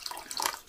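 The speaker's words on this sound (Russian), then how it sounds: "Надо хоть водички, что ли, добавить." Water poured from a tap into a pot of thick, slightly overcooked soup, a brief splashing trickle heard up close with no talk over it.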